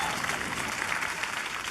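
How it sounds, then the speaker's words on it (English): An audience applauds at a talk show taping, a steady wash of clapping that fills the whole moment with no clear voices above it. "Let's applaud that."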